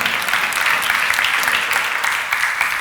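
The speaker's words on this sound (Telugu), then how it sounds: "కొట్టండి చప్పట్లో" A congregation claps during a live church service, producing loud, dense, steady applause that fills the whole three seconds with no letup.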